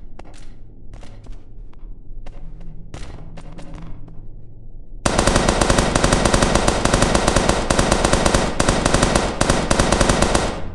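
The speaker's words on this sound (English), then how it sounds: "Bombing run! It's a bombing run." Video game bombing run: a quieter stretch of scattered shots gives way midway to a loud, continuous roar of rapid gunfire and explosions that fills the rest of the clip.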